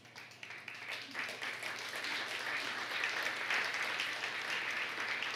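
Clapping from a church congregation during a sermon starts sparse and grows into sustained applause, heard at moderate volume in a reverberant hall.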